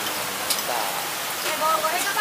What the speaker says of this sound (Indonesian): Waduh, hujan, tempias.